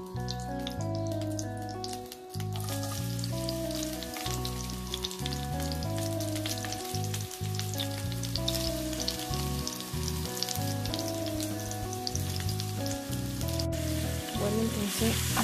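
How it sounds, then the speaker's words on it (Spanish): Onion and pepper sauté in olive or sunflower oil in a frying pan over low heat, a steady hissing sizzle running beneath loud, continuous background music. "a fuego lento sofreímos un poco los vegetales"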